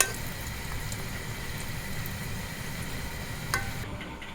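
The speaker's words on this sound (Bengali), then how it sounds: "দিয়ে দিলাম এগুলো লাল করে ভেজে নিব" Pitha cakes made from flour and semolina fry in hot oil with a steady, fine bubbling sizzle. The sound is fairly quiet and even, with one brief clink near the end and no voices.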